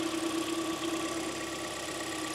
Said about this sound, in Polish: Auto chodzi bardzo ładnie